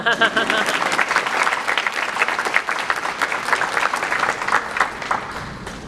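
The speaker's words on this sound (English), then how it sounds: "let's have a big round of applause" Sustained audience applause fills a morning logistics event as speakers are introduced, dense steady clapping from a crowd lasting the whole stretch with a faint voice underneath.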